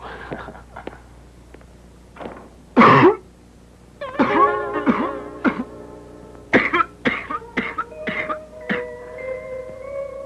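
Coughing and throat clearing from a man in an old film, a few sharp coughs spread out with quiet gaps, footsteps and small movements in a room, and no speech.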